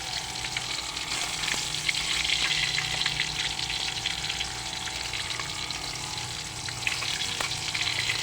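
Fish frying in a pan, a steady close crackling sizzle with bubbling spatter that carries on without a break, no voices present.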